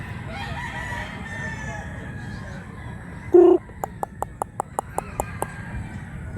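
Gamecock at a rooster yard in Mantalungon, Cebu, crowing once loudly and then clucking in a quick, regular series of short notes, near and clear above a low background hum.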